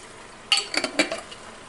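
Sauce being stirred with lemon juice added, a utensil scraping and clinking against the pot in a few quick, close strokes over a quiet background.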